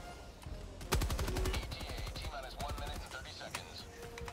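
Machine gun fire in the video game Helldivers 2: a fast rattling burst of shots up close, followed by scattered impacts and game effects, with voices talking over it.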